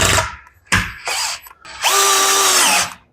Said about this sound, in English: you can definitely pre-drill this